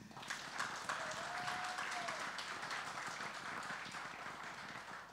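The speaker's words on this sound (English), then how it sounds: "So please, a big round of applause for him." Audience applause at a Bollywood film trailer launch for the comedy thriller Govinda Mera, a steady wash of clapping with some crowd noise mixed in, fairly faint and distant throughout.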